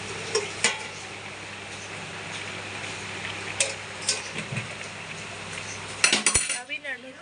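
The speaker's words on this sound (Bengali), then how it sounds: "রান্না হয়ে যাওয়ার পর আমি আবার নাড়তে এসেছি" A spoon stirs cooked soybean curry in a metal pot, clinking and scraping against the sides in scattered strokes over a low background hum, with a louder clatter near the end.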